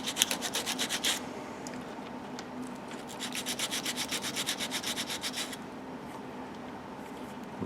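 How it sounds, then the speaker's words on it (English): An old wooden buggy wheel part is roughed up by hand sanding, a quick run of scratchy rubbing strokes, then a short pause and a longer steady series of even back-and-forth strokes, close and fairly quiet. "just kind of rough this up, because it's been sitting around for quite a few years"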